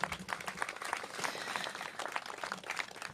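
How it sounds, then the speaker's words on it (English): Audience applause at an outdoor community gathering for a mayor's park investment announcement, a steady wash of many hands clapping at moderate distance, fairly quiet and continuous for a few seconds. "Give yourselves a round of applause."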